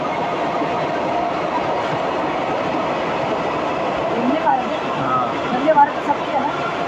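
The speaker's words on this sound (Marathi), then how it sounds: "बघा ट्रेन. अरे वंदे भारत." A Vande Bharat express train rushes past near Mulund station, giving a steady, loud rumble of rolling stock with a few sharper clanks toward the end, while people talk over it.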